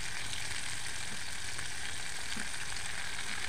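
Spices sizzle steadily in a hot pan with ginger and chili paste, salt, turmeric, cumin and coriander powder, a loud continuous frying hiss at close range with no talk.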